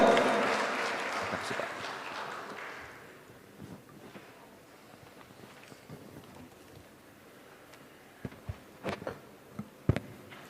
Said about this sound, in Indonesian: kita berikan aplaus buat Pak Estu Budiarto